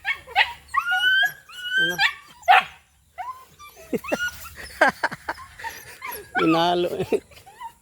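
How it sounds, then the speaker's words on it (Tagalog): A mother dog with a litter of five newborn puppies whimpers and yips in short bursts, close by, while people talk over and between the sounds. "Yung aso kong isa guys, yun oh, yun. Ano, nanganak na."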